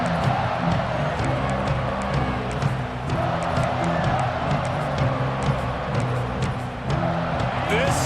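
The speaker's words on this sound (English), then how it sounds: "This crowd ready to make its presence known." A stadium crowd in EA Sports College Football 26 roars in a steady, dense wash of cheering under play-by-play commentary.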